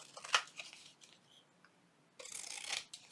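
Paper for a junk journal gets trimmed with scissors, giving a few faint, close snips and crisp paper rustles with a short pause between cuts.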